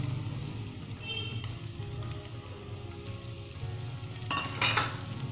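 Onions sizzle and crackle steadily in a hot pan with garlic, with a brief louder hiss near the end as they are stirred.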